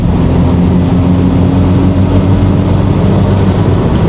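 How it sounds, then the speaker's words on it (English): A BMW 1 Series diesel runs with its turbo whistling steadily over a loud, constant engine drone, close and uninterrupted with no talk. "So what you heard there was a little bit of turbo whistle."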